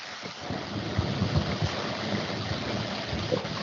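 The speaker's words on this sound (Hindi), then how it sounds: "ये पानी का फव्वारा चल रहा है किसी का, प्लीज इसे बंद कर लीजिए" Water fountain running, picked up through an unmuted microphone in an online meeting, a steady loud rushing wash with low rumbling, continuous and without voices.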